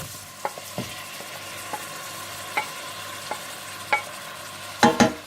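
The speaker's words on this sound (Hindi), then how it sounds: "थोड़ा सा भूनने के बाद आप इसमें टमाटर और हरी मिर्चें डाल दें।" Tomatoes and green chillies fry in a pan over ginger and garlic for palak paneer, a steady soft sizzle punctuated by scraping stirs and clicks of a spoon, the busiest clatter at the end.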